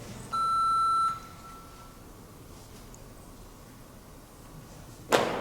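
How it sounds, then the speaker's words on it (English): An answering machine gives a single steady electronic beep lasting under a second, clear and fairly loud over faint room noise, followed by quiet hiss and a brief rustle or click at the end; no talking. "This is my answering machine. Please leave a name and a message, and I'll get back to you at my convenience."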